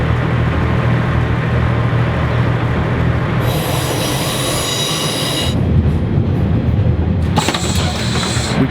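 A Cardiff Valley Lines passenger train rumbles loudly along the track, with bursts of high metallic wheel squeal rising and cutting out over the continuous low roar.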